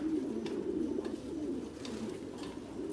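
Pigeons coo softly in a crowded, tiered pigeon loft housing around a hundred pairs, a low steady murmur of overlapping calls with no one talking.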